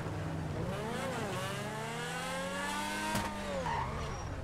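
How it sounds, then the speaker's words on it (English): A video game car engine revs hard, its pitch sweeping up and down in long continuous glides, loud and steady throughout with no talking. "this car sounds amazing"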